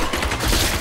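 Rapid gunfire from the action role-playing game Diablo 3, a dense, loud burst of shots crackling continuously through a short moment with no talking.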